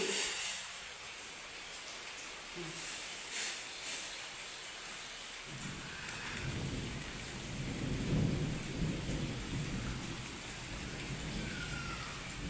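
Rain falls outside in a steady wash, and partway through a deep rolling rumble of thunder swells in beneath it and keeps grumbling through the rest of the stretch.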